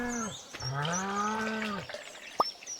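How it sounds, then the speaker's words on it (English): Goat bleating in the Stardew Valley farming game: a single drawn-out, wavering bleat lasting about a second and a half, fairly close and clear, followed by a short sharp click. "Oh my gosh, goat! Give me your milk!"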